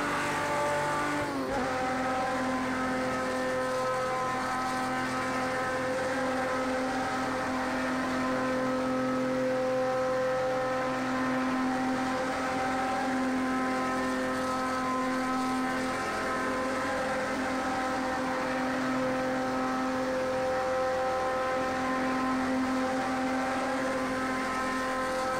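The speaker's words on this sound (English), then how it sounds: "Oh, you can start hearing that engine scream." An M512M race car engine screams at high, sustained revs in Project CARS 2, loud and continuous, its pitch holding steady with slight rises and falls throughout, alone without talk.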